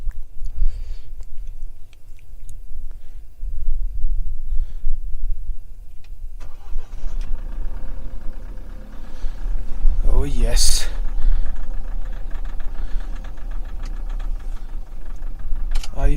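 A Mahindra Thar's engine cranks and catches in freezing cold, then settles into a steady close idle, with people talking over it throughout.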